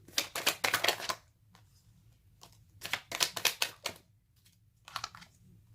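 Tarot cards being shuffled: three quick close bursts of soft rapid riffling and flicking, separated by short pauses, with no talk.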